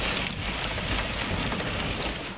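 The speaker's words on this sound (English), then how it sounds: "When the rain came, it came fast." Heavy rain pours steadily during a storm in Sydney, a dense, even hiss of water drumming on surfaces with no pause.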